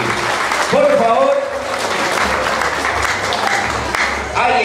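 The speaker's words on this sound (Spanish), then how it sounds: "Ahí está, fuertes esos aplausos" Audience applause at a graduation celebration, a dense steady clapping wash lasting throughout, with voices and brief shouts mixed over it.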